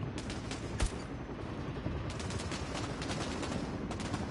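Gunfire from a Bravo Team VR shooter, heard as a run of sharp, fairly faint shots at irregular intervals over a steady background noise, with one louder crack near the start.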